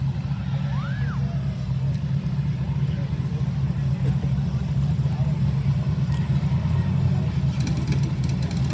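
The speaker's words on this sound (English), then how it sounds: "that guy knows how to do a burnout" A drag car doing a burnout at a no-prep street drag race, a continuous heavy engine roar and rumble holding steady at high revs for several seconds, loud and close with crowd voices underneath.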